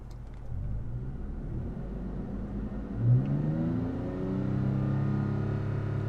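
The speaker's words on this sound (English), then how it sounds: "rev the engine just a little bit while we're parked here" A parked Toyota Tacoma's engine revs up to about 3,000 RPM, a steady low rumble with rising engine harmonics and a brief swell near the middle, heard alone from inside the cab.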